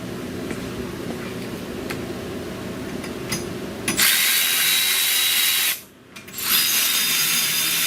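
A power tool tightens lock nuts on U-bolts during an Air Lift 2K airbag suspension install: a steady low whir for several seconds, then a louder high-pitched buzzing burst that briefly stops and resumes.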